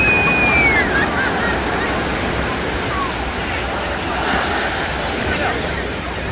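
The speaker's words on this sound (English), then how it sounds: "The ocean doesn't look too nasty today." Ocean surf rolls and breaks steadily on the beach at Ocean City, New Jersey, a loud continuous wash mixed with gusty wind buffeting the microphone, with a faint distant whistle-like tone early on.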